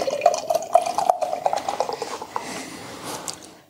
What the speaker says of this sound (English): Like the sound of that pour?